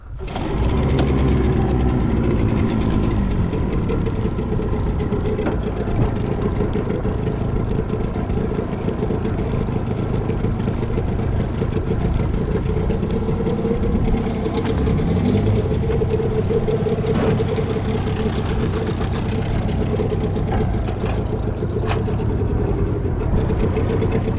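An engine idles steadily and close by for a long stretch, a constant low rumble with a faint mechanical ticking and no talk over it.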